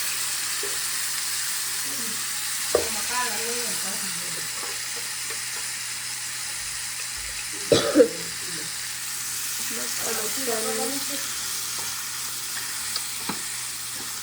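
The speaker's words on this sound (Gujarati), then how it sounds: "ટમેટાના શાકનો વઘાર થઈ ગયો છે" Tempering (vaghar) for a Gujarati tomato curry sizzles in hot oil in a home kitchen, a steady hiss broken by a few sharp clatters, with brief speech in the background.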